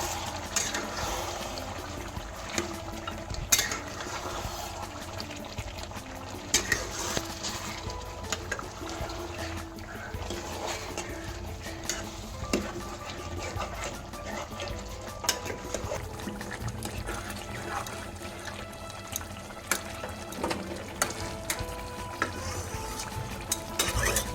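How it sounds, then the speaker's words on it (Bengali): Dhaba-style chicken kosha frying in oil in a pan while being stirred, a continuous close sizzle with scraping and occasional clinks of the spoon against the pan, with no voices. "এখন ভালো করে নেড়ে নেবো"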